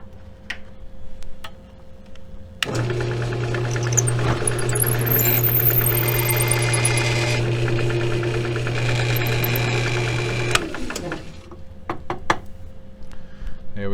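A drill bores a hole into a block of ebony for a file handle, a steady whirring, rattling drone that starts abruptly, runs for about eight seconds up close and then cuts off, with small knocks before and after.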